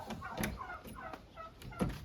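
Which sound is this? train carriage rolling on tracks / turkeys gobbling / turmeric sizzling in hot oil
turkeys gobbling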